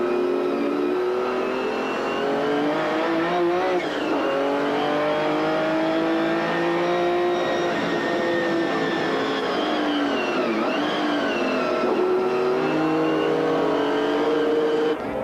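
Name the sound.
McLaren F1 GTR race cars racing at Paul Ricard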